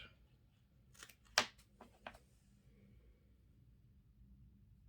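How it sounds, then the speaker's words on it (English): A few quiet, crisp snips of scissors cutting hare's ear fur while tying a fly, two or three close cuts in quick succession, then near silence with faint background hiss. "chop it off with my scissors"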